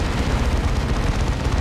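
A Melter weapon fires in a Warhammer 40,000: Dawn of War 2 multiplayer battle, a dense, rumbling, blast-heavy burst of noise that sustains loudly through the whole moment without any speech.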